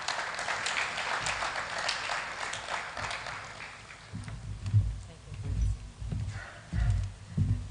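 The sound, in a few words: audience applause after a speech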